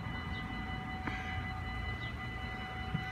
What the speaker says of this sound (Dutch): Nou papa, wij hebben weer een treintje gelukkig.